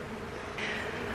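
Honey bees buzz steadily inside an open hive, a continuous close drone that swells slightly louder partway through, with no talking.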